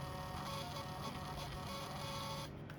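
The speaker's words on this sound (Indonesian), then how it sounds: "printer akan melakukan self test" A Panda PRJ-R58B thermal receipt printer runs a self test with a continuous, even mechanical whirr that holds steady for the whole stretch and eases slightly near the end, close to the listener with no voices.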